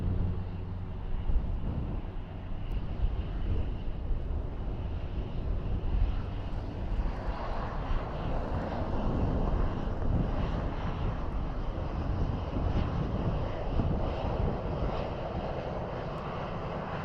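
Aircraft approaching Dublin Airport, with a steady broadband engine roar that holds across the whole stretch and swells slightly midway, heard at a distance with some wind noise and no talk.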